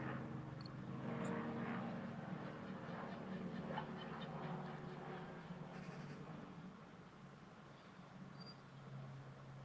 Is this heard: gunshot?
no